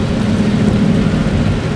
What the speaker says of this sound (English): where it is also raining